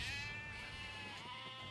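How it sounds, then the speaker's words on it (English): Sheep in stockyards on a Queensland property, a bleat rising from a continuous dense bleating of many animals, steady and moderately distant throughout. "By the look of all these sheep in the yards, he must be selling a few."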